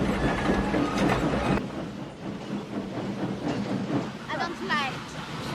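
A train rolls along the rails in a film scene set on the way to Auschwitz, a dense rumbling clatter with rhythmic wheel noise and brief squeals, loud and continuous.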